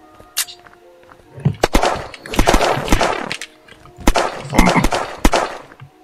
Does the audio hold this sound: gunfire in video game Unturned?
yes